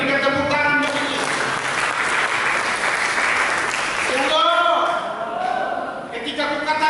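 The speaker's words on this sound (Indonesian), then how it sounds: "Mari kita berikan tepuk tangan." A church congregation at a Sunday sermon claps loudly and continuously. Broad, dense applause mixes with voices for several seconds, and speech rises over it near the end.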